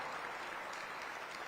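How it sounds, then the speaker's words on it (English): Faint, steady applause from an audience honoring educators at a city's State of the City address, a distant, even wash of clapping lasting under two seconds. "Let's give our educators a round of applause"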